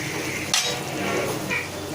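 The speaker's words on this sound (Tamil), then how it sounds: "சேர்த்து நல்லா கிளறி விடணும்" Prawns stirred into a frying curry in a pan, with a steady sizzle and a sharp clink of a utensil against the pan partway through, close and moderately loud.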